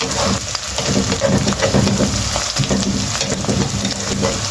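Chopped garlic, onion and six round red chillies crackle and hiss in hot oil, a dense, close, steady frying sizzle with faint stirring, no one talking.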